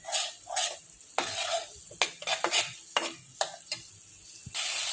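Spice masala being sautéed in a pan for an okra dish, with vigorous scraping stir strokes in quick bursts over a bright sizzle, metal utensil knocking the pan, close and free of talk.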